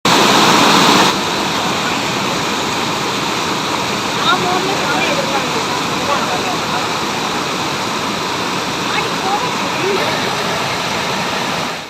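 Water pouring from upper lakes into Kandavara lake makes a loud, steady roar like a waterfall, a continuous broadband rush with no breaks that fades out at the very end.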